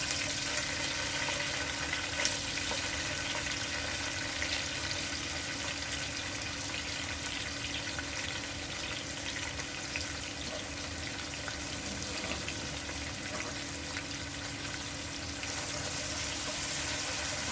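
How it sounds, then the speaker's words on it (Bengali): Chopped onions frying in a pan for chicken bhuna, a steady soft hiss of sizzling oil running unbroken and fairly quiet, close by with no voices. "এখন এর ভিতরে দিয়ে দিচ্ছি পেঁয়াজ কুচি।"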